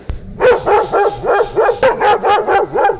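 A dog inside the Bigg Boss house barks in a fast, steady run of about ten loud, close barks, evenly spaced with no other voices over them.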